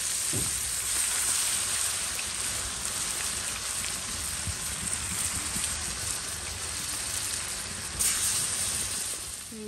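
Beef sizzling and frying in a pan, a steady broadband crackle that runs the whole time with occasional louder pops, close and continuous with no talking.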